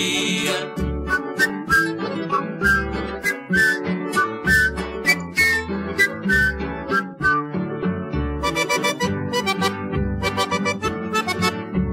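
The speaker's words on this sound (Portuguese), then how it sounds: "só vive assobiando sempre esta" A whistled melody carries over a bouncy acoustic accompaniment, the tune steady and clear throughout.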